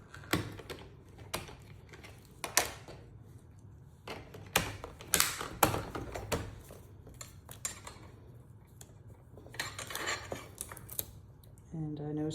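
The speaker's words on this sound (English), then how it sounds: "And I think I'll trim that one just a little bit more." Scissors trim paper for scrapbooking in a series of sharp, close snips and crisp crunches separated by pauses, with a faint voice coming in at the very end.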